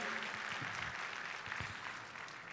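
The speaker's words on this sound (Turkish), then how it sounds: "Bir alkış alalım Bahar Hanım'a." Audience applause for Bahar Öztan at an awards ceremony in Tokat, steady dense clapping heard without talk for a couple of seconds.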